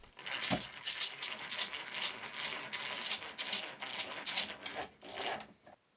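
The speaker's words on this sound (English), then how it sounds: "And then countersink the holes to keep the screw heads clear." Repeated rough grinding bursts of a countersink bit cutting into wood, each lasting a fraction of a second, close and fairly loud.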